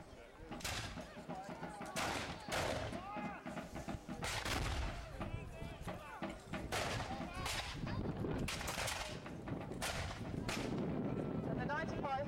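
Napoleonic battle reenactment at Old Sarum with Brown Bess muskets and Baker rifles firing, a dense series of loud, sharp reports and crackling volleys throughout, with voices mixed under the gunfire.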